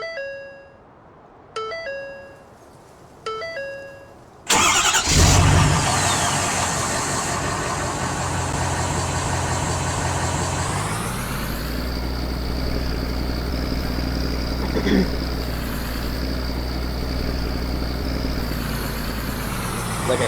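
In Farming Simulator 2019, three chime tones ring out one after another, then a forestry logging machine's diesel engine starts and runs with a loud, steady drone that rises in pitch as it drives off, with no talk.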